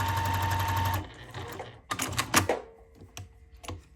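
A Juki TL2000 straight-stitch sewing machine runs in a fast, even burst of stitching for about a second, followed by scattered clicks and short mechanical taps.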